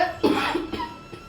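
A couple of short, harsh coughs close by, brought on by green chilli fumes while cooking, with a brief pause between bursts and a quieter one trailing after.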